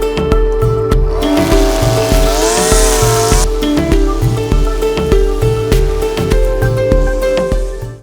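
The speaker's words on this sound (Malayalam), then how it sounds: "ബ്രഷ് കട്ടർ ഇത് 2 തരത്തിൽ എഞ്ചിന് 4 സ്റ്റോക്ക് എഞ്ചിന് 2 സ്റ്റോക്ക് എഞ്ചിനും ഉണ്ട്." A petrol brush cutter runs loud and close with a continuous buzzing engine drone, revving higher for a moment before settling back to a steady pitch.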